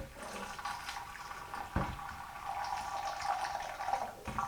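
Boiling water poured from a vessel into an oak whiskey barrel, a continuous low splashing and trickling stream, fairly quiet and close, with a brief knock partway through.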